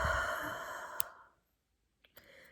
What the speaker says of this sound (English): I guess this is like what a normal breath sounds like now